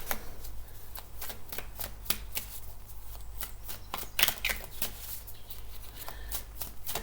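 A tarot deck shuffled steadily at close range, a long run of rapid papery snaps and flicks with no talking.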